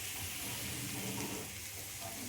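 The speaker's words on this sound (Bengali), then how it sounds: "ব্যাস সেই স্বাদের কুদরি ভাজা হবে" Ivy gourd fries in a pan with onion, green chili and salt, giving a soft, steady, close sizzle with no break.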